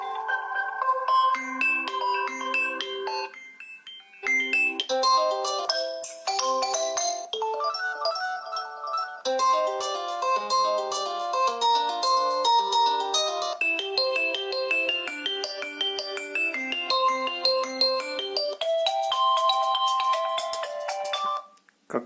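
A Xiaomi Redmi Note 4 ringtone at maximum volume plays a loud, bright melodic jingle continuously, briefly pausing then resuming, with no voices.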